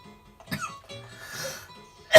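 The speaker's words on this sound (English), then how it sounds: "I'm just coughing up a storm, aren't I?" A couple of short, rough coughs sound close by, followed by a sharp burst of noise at the end.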